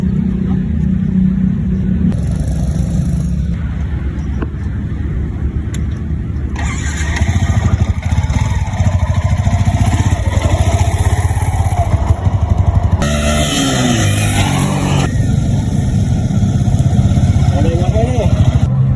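Motorcycle engine revving hard and rumbling close by, its pitch rising and falling in repeated pulls, with loud voices talking over it.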